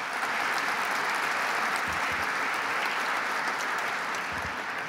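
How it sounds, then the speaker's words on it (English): Dense, steady applause from a large audience at a formal CUNY event with the New York governor and MTA chair, sustained at even loudness throughout with no voices over it. "Let's give Stephen Rubenstein a big round of applause."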